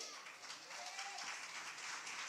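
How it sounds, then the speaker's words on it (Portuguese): A congregation applauds inside a church, a steady wash of many hands clapping at moderate distance, with faint voices mixed in and a brief whistle-like tone cutting through midway. "Pode aplaudir ao Senhor?"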